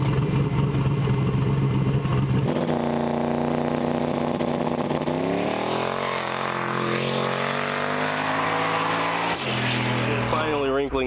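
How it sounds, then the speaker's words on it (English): A four-link drag car roars off the line in a loud, sustained launch with a rising engine pitch, the tires wrinkling, while people talk over it. "It's finally wrinkling the tires there."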